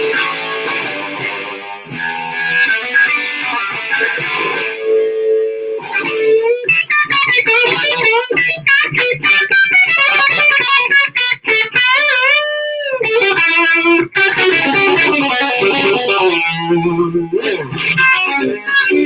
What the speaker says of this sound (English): I'm going to give away one Pariah humbucking pickup, which will be cool. They sound like this.